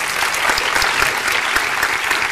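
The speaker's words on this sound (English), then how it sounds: "a round of applause for the programmers again." A festival audience gives sustained, dense applause for the programmers, a loud, even wash of many hands clapping close to the listener.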